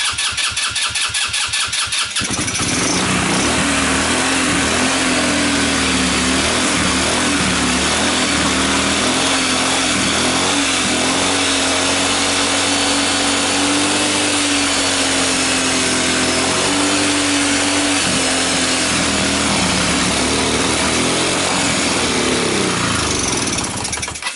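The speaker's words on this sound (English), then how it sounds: "Give it a little gas." A fire-damaged Carter off-road buggy engine starts with a burst, then runs loud and steady nearby, its drone rising and falling slightly as the throttle is blipped, with no talking over it.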